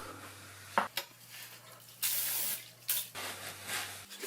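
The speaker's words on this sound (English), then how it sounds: "so I stone them more aggressively" A sharpening stone is rubbed over the flat machined metal surfaces of a CJ0618 7x12 lathe, aggressively smoothing raised edges and rough marks, in several short scraping bursts separated by pauses over a low steady hum.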